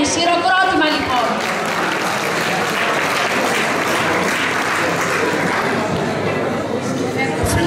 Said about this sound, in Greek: Χειροκρότημα λοιπόν.